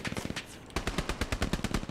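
Bursts of rapid machine gun fire from the video game Hell Let Loose, loud and close, with a short pause and then a sustained rattling string of shots.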